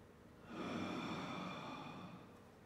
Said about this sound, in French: Inspire naturellement.